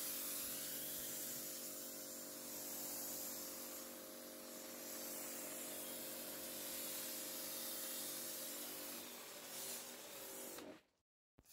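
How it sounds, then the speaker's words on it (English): A Karcher FJ6 foam cannon sprays foam evenly over a car, a steady close hiss that runs without a break for about ten seconds and then cuts off abruptly. "you can see the FJ6 covers the car quickly and evenly"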